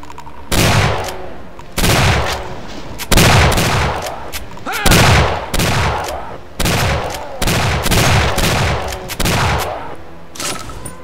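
A boss monster in Doom 2 fires heavy shots in a repeating pattern, loud close blasts arriving in clustered groups about every second with brief gaps, no voices on top.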